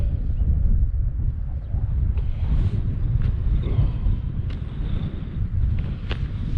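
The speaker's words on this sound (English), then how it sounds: "this wind is relentless today. It's really in your face, it's really cold" Strong cold wind on Dartmoor buffeting the microphone, a loud continuous low roar with gusty rumble throughout and faint thin knocks, no speech.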